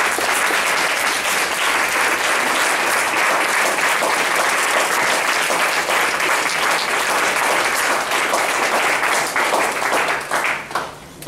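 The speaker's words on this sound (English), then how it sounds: "how about a round of applause for them one more time" An audience at an open mic night gives a long, full round of applause, dense clapping from many hands that holds steady before tapering off at the end.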